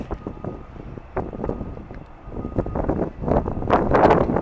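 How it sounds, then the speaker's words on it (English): Steady gusting coastal wind near Partridge Island and Courtenay Bay buffets the microphone with a low, rumbling roar that swells louder toward the end. "It's quite windy."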